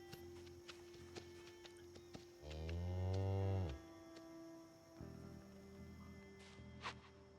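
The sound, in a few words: cows mooing, from a video game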